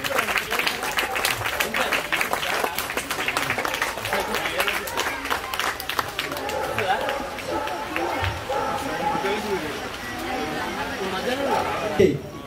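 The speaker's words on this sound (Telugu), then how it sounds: "కొంచెం చప్పట్లతోటి గట్టి కొట్టండి సార్." A crowd at a colony Ganesh Navaratri felicitation event held by a residents' welfare association claps densely for several seconds, and the clapping thins out under ongoing chatter and talk.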